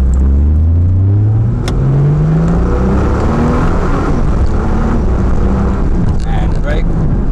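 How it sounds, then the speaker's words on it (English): A 2015 Nissan Juke R 2.0 accelerating, recorded onboard, with a loud, deep engine roar rising in pitch through the gears amid heavy cabin rumble and wind noise. "Now we accelerate down the middle."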